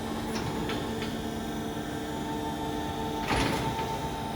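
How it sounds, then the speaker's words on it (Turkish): The front door of a weighing livestock-catching chute slides open with a brief mechanical rattle and scrape about three seconds in, over a steady machine hum. "Ön kapıyı tekrar aç."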